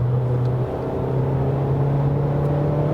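VW Tiguan Comfortline accelerating from 80 to 100 in third gear, a steady, loud engine drone with a low hum climbing slightly in pitch, continuous and without speech.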